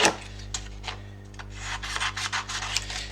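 A paper sewing pattern is cut in several short, crisp rustling bursts in quick succession, close by, over a low steady hum.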